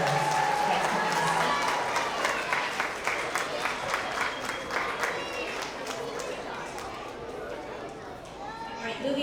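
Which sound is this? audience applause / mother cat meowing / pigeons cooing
audience applause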